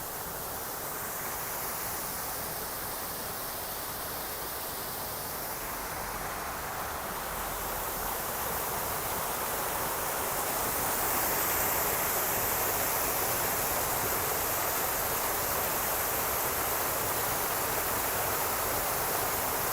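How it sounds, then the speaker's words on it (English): Japanese tea garden waterfall pouring in a constant broad rush of falling water, loud and close, steady for the whole stretch and swelling slightly toward the end, with no voices over it. "There is a waterfall here."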